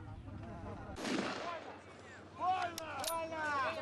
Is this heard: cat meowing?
no